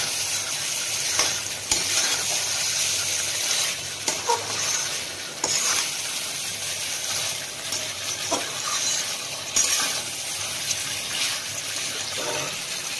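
Goat mutton frying with ground fried-onion paste, a loud continuous sizzle broken by repeated scraping stirs of a spoon against the pan, close up and without speech.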